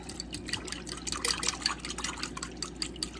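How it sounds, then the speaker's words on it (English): A fork stirs a hand sanitizer mix of alcohol and lotion in a container, making close, wet, sloshing splashes and light drips that continue throughout, with no talking. "now I'm going to take a fork and stir it all up"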